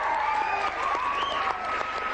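Studio audience on a live talk show breaking into a big round of applause, dense steady clapping with a few whoops, continuous throughout.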